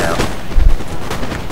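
Musket volleys from infantry in Napoleon Total War, a Prussia versus Austria battle: a dense, muffled crackle of massed shots with one heavier low thump in the middle, loud and continuous across the short clip.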